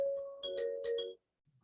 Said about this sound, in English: Apologize for my phone there.